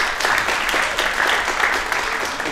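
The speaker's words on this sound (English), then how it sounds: "Again, a well-deserved applause" An audience at a luxury-tourism panel discussion in Dubrovnik, Croatia breaks into brief, lively applause, a close, crisp burst of many clapping hands lasting a couple of seconds.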